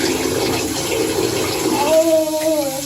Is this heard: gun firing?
no